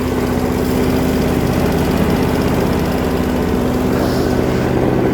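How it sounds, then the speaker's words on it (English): A Redmax 8500 backpack leaf blower runs continuously during a leaf cleanup, its engine drone loud, close and unbroken for the whole stretch with a steady rumbling hum. "Always blow your equipment off as you go."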